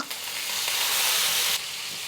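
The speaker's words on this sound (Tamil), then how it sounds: "இப்போ எல்லாத்தையும் சேர்த்து நல்லா வதக்கி விட்டுக்கோங்க" Dried red chillies and curry leaves fry in oil with mustard seeds, making a loud, continuous hiss and crackle for about two seconds with no talking.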